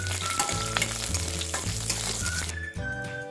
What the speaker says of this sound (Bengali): ফোড়নটা একটু ফ্রাই করে নিচ্ছি।